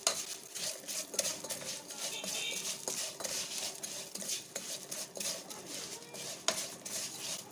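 Vermicelli for koshari fries in a pan, a soft continuous crackle and patter with light scraping and metallic clinks of a utensil stirring the strands.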